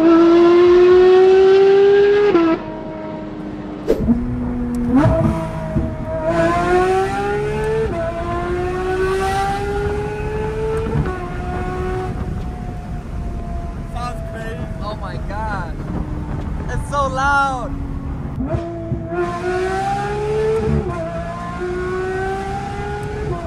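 A Porsche GT3 RS engine revs repeatedly, pitch climbing and dropping through gear changes, loud and close, with wind noise and occasional voices.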